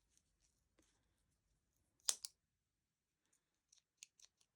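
Scissors snip fabric for a scrap-fabric book: a few quiet, close cuts, one sharper double snip in the middle and a short cluster of small clicks near the end, with no talking.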